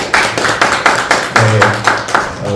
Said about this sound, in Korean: 우리 잠깐 박수 한번 하겠습니다